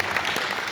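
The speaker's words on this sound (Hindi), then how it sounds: "एक बार जोरदार तालियां बजाइए" Audience applause at a mushaira poetry night, a dense, steady wash of clapping from a crowd that holds evenly loud through the short burst with no voices on top.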